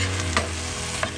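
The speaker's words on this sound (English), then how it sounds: "And I will just mix it well," Tomatoes and vegetables get mixed in a sambar pot, a brief spell of soft scraping stirs over a low steady bubbling hiss, close by with no talk.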